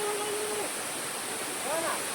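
Jakeda waterfall in Nayagarh pours with a steady, dense rushing roar that fills the whole clip, with a couple of faint tonal whistles drifting over the water noise.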